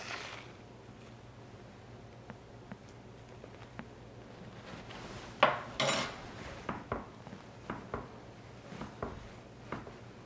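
A spoon stirs guacamole mix into shredded cheese in a bowl: scattered light scraping and clinking taps at an irregular rhythm, close and fairly quiet, with one brief louder clatter near the middle.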